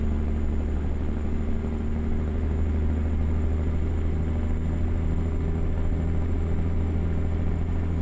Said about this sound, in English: This engine sounds really good in here